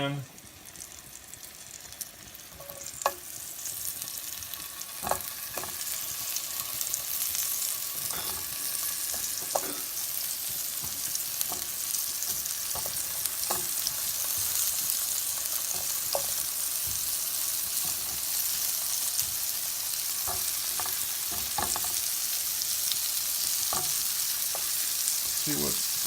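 Zucchini sizzles steadily in an oiled pan, a continuous bright frying hiss punctuated by scattered clicks and scrapes of stirring throughout.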